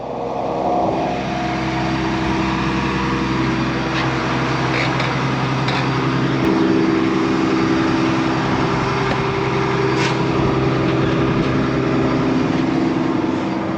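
A combine harvester engine runs steadily and loud from inside the header during a ride through a canola field, its low droning hum continuous with faint rattles.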